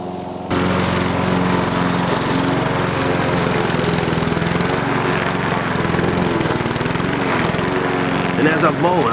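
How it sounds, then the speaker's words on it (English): A lawn mower starts up and cuts ridiculously tall grass in front of a house, its engine droning loud and close without a break, with a voice speaking near the end. "Let's mow the grass in front of the house because it was ridiculously tall."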